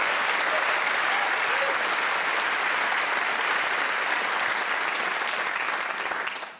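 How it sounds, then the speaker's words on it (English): A studio audience at a radio panel game applauds loudly, a dense, sustained roar of clapping mixed with cheers that carries on without a break before cutting off at the end. "Please whoop and cheer for all of them"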